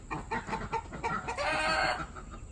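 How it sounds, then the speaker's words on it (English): A chicken clucking in a home vegetable garden, a quick run of close, repeated clucks followed by a longer, drawn-out squawk, with no talking. "Bad chicken."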